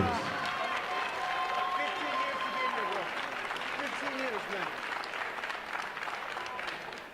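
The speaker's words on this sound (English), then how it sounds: "have a nice round of applause for both fighters" Applause from the audience at a fight event in a convention center greets both fighters after three rounds, sustained clapping and crowd noise while a voice speaks over it.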